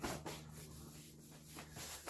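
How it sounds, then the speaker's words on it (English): Hand sanding on wood: rough rhythmic rubbing strokes, back and forth, fairly quiet and close, with a low steady hum underneath. "A little bit of sanding on this gives it a polished look"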